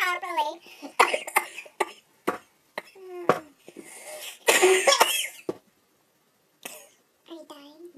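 A boy coughs and sputters in rough, wet bursts as if choking on his own spit, the fits mixed with strained voice sounds and short gaps of silence, heard up close indoors.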